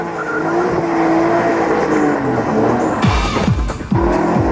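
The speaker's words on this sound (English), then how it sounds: "The sheer engine power of the 5-liter V8 makes it tricky to control." A Hartge 5.5 V8 BMW with a five-litre V8 races on a track, its engine roaring steadily and loud. Then the tires squeal in several sharp bursts as the car slides through a corner.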